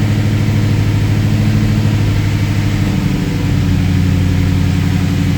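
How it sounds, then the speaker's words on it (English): Supercharged SVT Cobra V8, running dead rich on a cold start, held steady on throttle: a loud, close, continuous deep engine drone with slight waver, then easing slightly toward idle. "Now she'll idle, but she's coming around."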